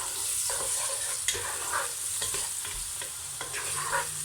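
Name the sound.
onions browning in a pot for curry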